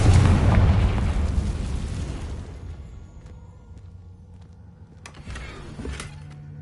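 A fire spell (Confringo) from the video game Hogwarts Legacy blasts with a loud, deep explosion that rumbles away over a few seconds, followed by a couple of fainter pops.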